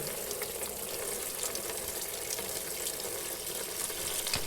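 Coolant spraying from a Mazda Spec Miata race car engine during a coolant flush, a continuous hissing, splashing rush of liquid that stays steady and close without any speech.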